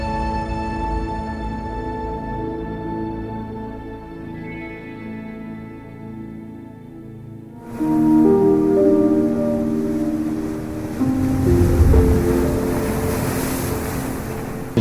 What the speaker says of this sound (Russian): Океан вот там за отелем.